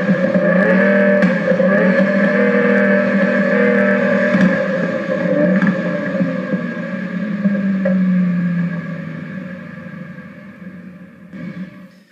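Engine sound effect from a Sturmkind DR!FT Racer RC car in standard mode, a steady loud synthetic engine drone with a slight pitch sag that fades out toward the end, no voices.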